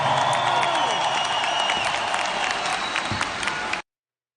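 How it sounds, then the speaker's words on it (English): Audience applause erupts in a hall after a speech to a crowd, a dense, steady wash of clapping with scattered cheers, loud and sustained before cutting off abruptly. "you can actually hear a massive applause erupt from the audience"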